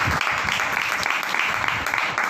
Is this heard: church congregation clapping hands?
yes